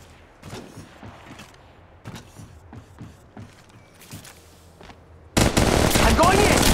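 Rapid gunfire from weapons in the Apex Legends Mobile shooter game, with repeated sharp shots in an uneven burst and a loud, dense barrage at the end.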